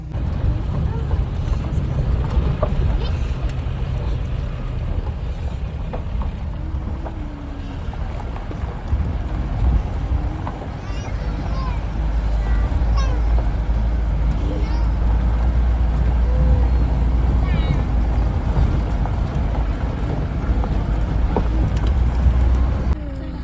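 Interior of a Maruti Alto car driving over a potholed road toward Bhadraj Temple near Mussoorie: a steady engine and road rumble with occasional jolts, while people talk inside the cabin throughout.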